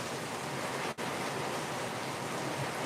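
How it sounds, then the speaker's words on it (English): Heavy rain and wind lashing down during Hurricane Milton, a steady, dense hiss that fills the whole stretch with only a momentary dip near the start, with no voices. "The rain and the wind have really intensified,"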